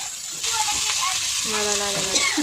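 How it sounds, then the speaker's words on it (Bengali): Ginger fries in hot oil with a continuous bright sizzle that swells partway through, close and steady, with a faint tonal hum underneath and no talking. "এটাকে 1 মিনিট ভেজে নেবো ভালো করে, আদাটাকে কাঁচা গন্ধটা চলে যাবে"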